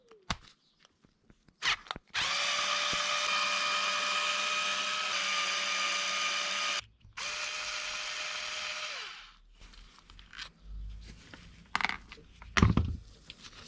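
A power driver whines steadily for several seconds while removing the screws from a broken arm on an Arrma Kraton 8S 1/5-scale RC car, then a second shorter run, with clicks and handling knocks before and after, close and alone.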